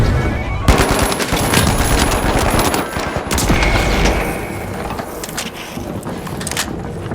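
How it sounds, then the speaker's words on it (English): Frag grenade blast amid combat in the shooter game The Finals, a loud burst of explosive crackle and rapid gunfire rattling continuously for several seconds before easing slightly. "Frag grenade out!"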